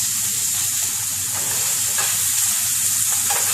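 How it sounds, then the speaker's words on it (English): Onion fries in a pan as the base for a creamy coconut chicken curry, giving a loud, close, unbroken sizzle and hiss with faint scrapes of stirring and no talk. "make sure to stir your onion, that way it doesn't burn"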